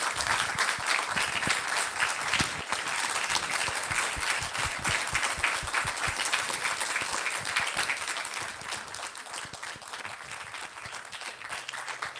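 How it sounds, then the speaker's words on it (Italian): Sustained applause from an audience, many hands clapping densely for several seconds before tapering slightly toward the end. "intanto gli farei un applauso ringraziandolo"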